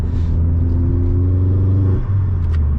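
A Vauxhall Astra VXR engine heard from inside while driving, a loud, deep, steady rumble with a held tone that briefly drops and recovers, with no talk.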